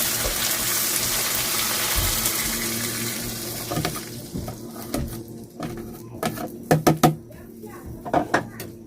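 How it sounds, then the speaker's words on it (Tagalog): Water running from a tap, a steady hiss that fades out midway, followed by clattering knocks and faint voices nearby. "Kulang pa tubig."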